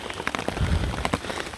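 Rain patters steadily on a bush tent overhead, with dense close drops and scattered louder taps against the fabric, alone with no voices.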